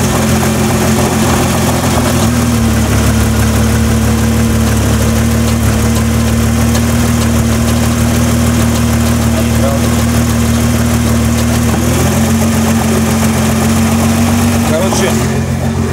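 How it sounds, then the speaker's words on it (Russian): A sports car engine idles with a faint odd extra noise, most noticeable in drive or reverse, a steady close mechanical hum with a slight shift in tone partway through, while someone talks over it. "на холостых у нее, ну, есть такой небольшой звучок, особенно когда она стоит там либо на D"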